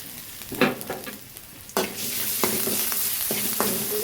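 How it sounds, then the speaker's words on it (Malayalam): Brinjal sautéing in a pan for a dried anchovy curry, several sharp spatula scrapes at uneven intervals over a steady, close sizzle that grows fuller midway, with no talking. "വഴുതന വഴറ്റിക്കൊണ്ടിരിക്കുകയാണ്"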